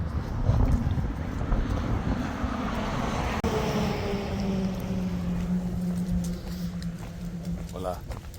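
Wind gusts buffet the microphone outdoors on a cool, overcast Camino Primitivo walking day from Fonsagrada to O Cadavo, a steady rushing roar under the sound of someone walking.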